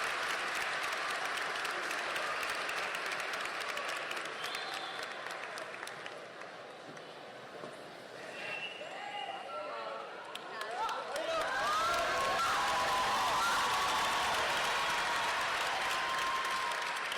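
Sustained applause from a large audience at a high school senior graduation ceremony, a broad steady roar of clapping that dips slightly midway then swells back, with cheering and a voice over it.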